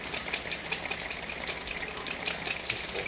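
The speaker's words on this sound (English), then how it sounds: "I can go and spin out the excess water" A freshly washed wet paint brush is spun to fling out excess water, giving a continuous close spray of fine splattering droplets with faint crackly ticks, loud and steady throughout.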